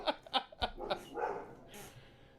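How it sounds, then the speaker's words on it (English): A puppy gives three or four quick, sharp yips and barks in a row, close and fairly loud, followed by a softer drawn-out whine. "puppy"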